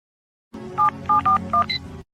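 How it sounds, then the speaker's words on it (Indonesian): A telephone keypad dials a short sequence of electronic tones, four or five close beeps in quick succession over faint room noise, with no talking. "Anto, telepon dan cek, dan gunakan pengeras suara."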